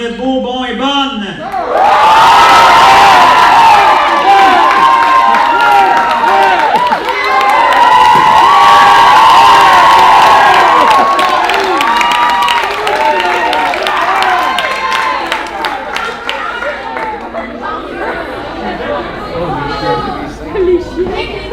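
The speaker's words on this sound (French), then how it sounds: "je pense que vous pouvez vous applaudir" A graduation ceremony crowd cheers, shouts and applauds loudly and continuously, young voices whooping and chattering in a dense roar that swells early, stays strong, then thins slightly toward the end.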